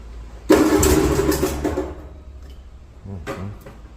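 An antique tractor engine is cranked over with a two-handed starter, giving a loud churning burst that fades without catching, followed by a brief second crank.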